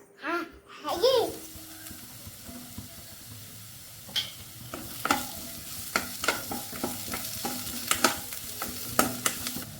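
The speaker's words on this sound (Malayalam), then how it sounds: "സവാള നന്നായിട്ട് വാടി വന്നിട്ടുണ്ട് നമുക്കിതിനകത്തേക്ക് ജിഞ്ചർ ഗാർലിക് പേസ്റ്റ് ചേർത്ത് കൊടുക്കാം" Onions with ginger garlic paste sautéing in a pan, a steady sizzle broken by repeated sharp scrapes of a spoon stirring, with a child's babble briefly at the start.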